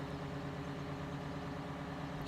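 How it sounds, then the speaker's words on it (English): Big Bud 747 tractor, 1100 horsepower, in the video game Farming Simulator 17, its engine giving a low, steady, quiet rumble with no other sounds. "this is the big 747 Big Bud"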